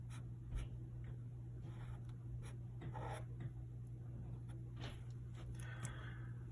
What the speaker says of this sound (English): So I'm going to draw a little trumpet.